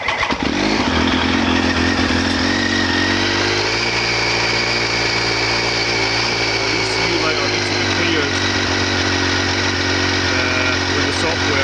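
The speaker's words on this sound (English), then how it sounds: "start the bike up." A motorcycle engine runs loud and close with a buzzing, steady drone that shifts pitch slightly as the revs change, while a person talks over it.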